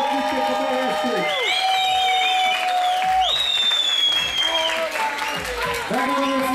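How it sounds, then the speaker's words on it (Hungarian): A crowd applauds and cheers at a freestyle rap battle, with steady loud clapping, whoops and shouted voices rising over it throughout. "tapsot akarok hallani"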